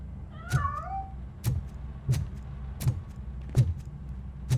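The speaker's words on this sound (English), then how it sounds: "That cat must be hiding inside." A cat in the video game RoboCop: Rogue City gives a short, clear meow near the start, followed by a steady run of sharp thumping footsteps or knocks at regular intervals as it escapes, with no talk over it.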